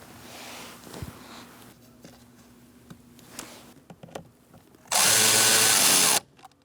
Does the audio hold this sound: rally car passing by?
no